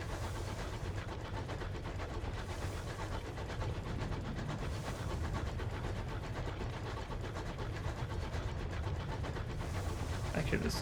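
Steady rumbling drone of a space train engine in the game Sunless Skies, a continuous low mechanical hum with faint clattering texture running evenly throughout, under light game ambience.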